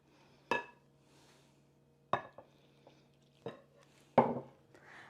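Yorkshire parkin cake batter mixed in a bowl, with four sharp clinks of a spoon against the bowl spaced a second or more apart over a quiet room hum.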